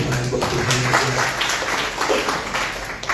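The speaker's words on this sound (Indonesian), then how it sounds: "Tepuk tangan buat Tuhan." A church congregation claps and applauds together during an anniversary service, a steady wash of many hands that stays loud and even throughout, with no voices rising above it.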